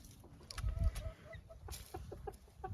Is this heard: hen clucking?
yes